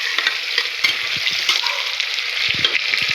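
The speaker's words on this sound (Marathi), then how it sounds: "तेलामध्ये चांगलं हे परतून घ्यायचं." Tomato and potato frying in hot oil for matar pulav, a steady loud sizzle with soft scraping and stirring knocks from a spoon, close up and without talk.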